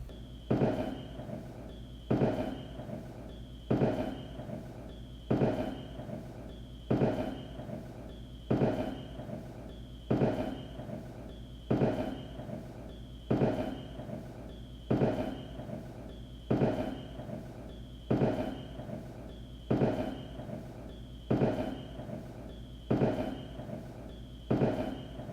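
Canada Day fireworks go off in a steady, regular series of booming bursts, each followed by a fading crackle and rumble, about every one and a half seconds over a low constant background.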